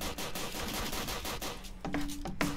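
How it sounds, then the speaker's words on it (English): Gunfire in the Roblox video game: a dense, steady stream of rapid game shots filling the whole stretch, with a couple of sharper, tonal bursts near the end. "Oh, yeah, there's lots of gunfire."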